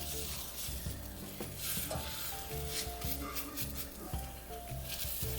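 Danish aebleskiver pancake balls fry in a hot pan with a steady sizzle, while a utensil scrapes and taps as the balls are turned, all close and continuous.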